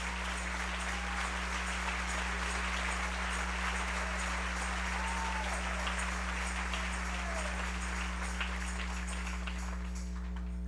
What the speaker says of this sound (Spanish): Dele ese aplauso al Rey en esta mañana.